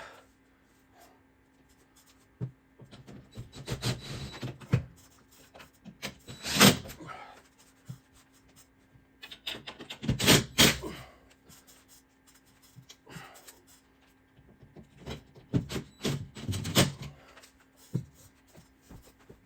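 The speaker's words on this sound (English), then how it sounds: "We can start screwing in the other ones." Screws being driven in by hand while a Caro 52-inch DC ceiling fan is mounted overhead, heard as several bursts of scraping, rubbing turns with short pauses between them, fairly close and with no talk.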